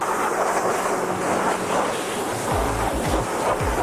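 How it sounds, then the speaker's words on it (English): A pressure washer sprays into the engine bay of an abandoned Mini being detailed, giving a loud, constant roaring hiss throughout, close to the microphone, with a few low thumps near the end. "people using pressure washers on their engine bays"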